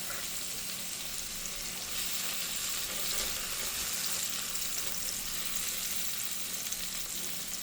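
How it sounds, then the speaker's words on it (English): Minced garlic and jalapeno fry steadily in a hot pan for chicken tikka masala, giving a continuous close, bright sizzle with soft stirring textures and no talking. "we're going to go ahead and add roughly a tablespoon of minced garlic. We're going to fry that for another minute."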